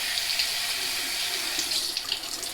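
Steady hiss of a running tap as a shaving brush is rinsed under the water in a sink, continuous splashing with slight flutters, close and alone with no voices.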